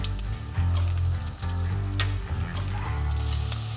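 Fresh garlic cloves frying in a pan with onions, a steady close sizzle over a low, humming background with a few sharp crackles.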